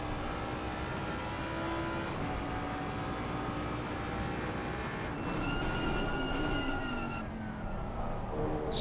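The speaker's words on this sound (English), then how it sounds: "Squeaking of the brakes." Car brakes squeal in a sim racing game at Zolder, with high tonal whines rising and falling over a constant engine and track drone, loud and close, with no talk.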